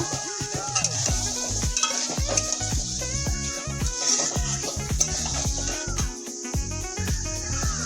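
Tomatoes with soybean chunks and potatoes being sautéed in a pan for curry, a steady close sizzle under repeated scraping and stirring strokes from a spoon against the pan.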